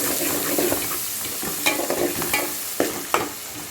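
Tomato and onion pieces stir-fried in hot oil make a bright, close sizzle, broken by several sharp scrapes and clacks of a spatula turning them, with no voices.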